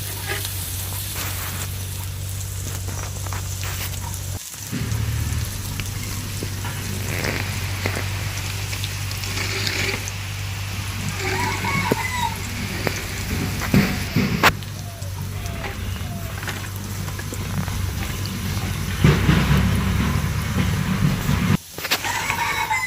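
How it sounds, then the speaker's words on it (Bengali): Chopped garlic frying in hot oil in a frying pan, a steady close sizzle and crackle that runs throughout, with faint background noises of a village setting. "তেলটা গরম হওয়ার পর আমি এখানে রসুন কুচি দিয়ে দিলাম।"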